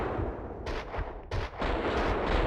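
Rifle shots in the Max Payne 2 video game, several loud, close reports in quick succession with heavy low booms and short decays, and no talk over them.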